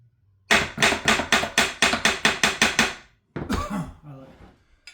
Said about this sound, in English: sometimes a little tappy tap, because you got these pins down here